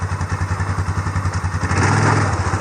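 An ATV engine with power steering runs loud and close, a rhythmic throbbing idle that swells into a heavier, steadier drone as it goes into gear.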